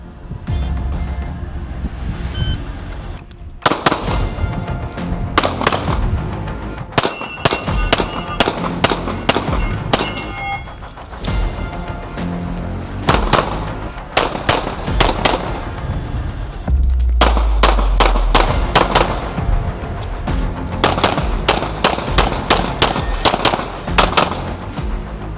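Pistol shots ring out at an outdoor shooting range in Sidney, Nebraska, during a doubles drill, loud sharp reports fired in quick pairs and bursts with short pauses between strings.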